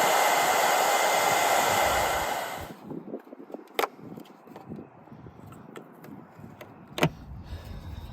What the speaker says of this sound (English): we're actually gonna use a hair dryer. We're just gonna use low setting